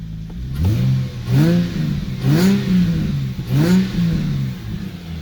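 An Infiniti G35's engine is revved repeatedly in the cold, with three or four rising-and-falling throttle blips over a steady idle, loud and close with no talk.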